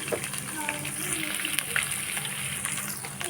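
Masala sizzles and fries in a pan for a potato-and-egg curry, a steady, close crackling hiss that runs without a break.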